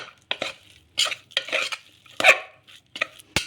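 A spoon scrapes and clatters in a bowl as chopped onion is mixed into snack batter, with short uneven strokes and bright metallic clinks, close and alone.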